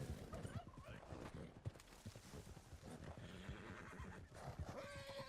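In Red Dead Redemption 2, a horse gives a loud whinny while hooves clip-clop in an uneven rhythm, close and busy throughout, with game sounds mixed in.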